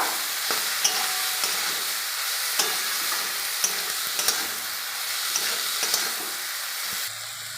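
Pond fish and spices frying in a pan give a continuous, close sizzle, with a spoon's light scrapes and taps at irregular intervals as it is stirred.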